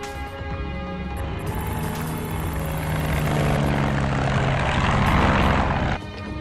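A propeller aircraft engine drones steadily and loudly through an action-adventure film scene, a continuous hum that swells slightly toward the end before dropping off.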